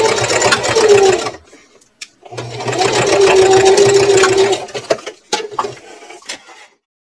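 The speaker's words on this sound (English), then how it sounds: "Now I'm going to sew across here using a 3/8 inch seam allowance" A sewing machine stitches across a purse seam at a 3/8 inch allowance, running in two steady bursts with a short pause between, then a few brief clicks and taps as it stops.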